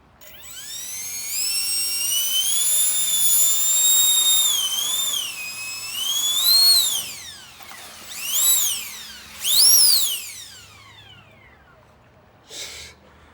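A prototype RC car's electric motor whines loudly and close as it drives around a track. Its high pitch climbs, then dips and surges again in several bursts before fading out.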